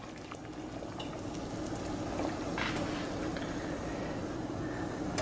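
Water boiling vigorously in a pot for cooking seafood, a continuous bubbling roar that grows slightly louder, with occasional faint clinks.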